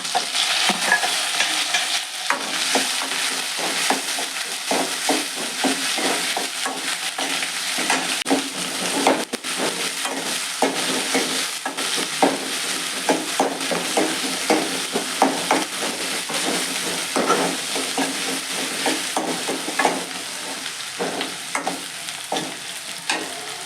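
Onion and curry leaves frying in hot oil for sambar, a continuous close sizzle with frequent scraping strokes of a spoon stirring the pan, steady throughout with no talking.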